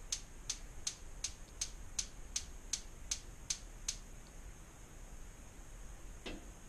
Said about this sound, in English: And that was the sound of the valve closing.